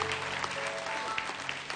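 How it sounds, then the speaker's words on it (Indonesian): Church congregation applauding during an evening worship service, a steady dense clapping that fills the whole short stretch at moderate level, with a faint sustained tone running underneath. "kasih tepuk tangan tuh jemaat kita"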